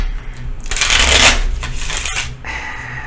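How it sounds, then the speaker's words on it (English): Tarot cards being shuffled up close, a quick riffling burst followed by softer sliding and tapping of the deck. "Just been shuffling here, getting some of your energies on these cards"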